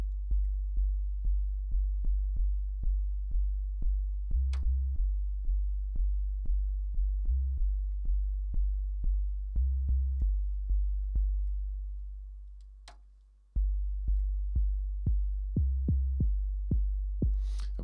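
808 bass synth notes from Native Instruments Massive, deep sustained sub-bass tones each starting with a sharp click, played in a regular pulsing series with a long gliding note near the end, loud and alone.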